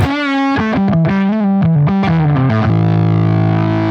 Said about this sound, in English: This is actually a fuzz, so you can see here I have a fuzz.